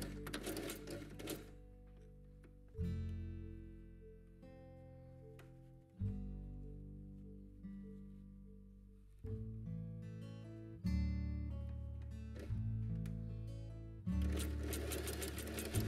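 A sewing machine stitching binding onto the felt edge of a quiet book page, in several bursts of fast, steady mechanical whirring separated by short pauses, close and clear with no talk.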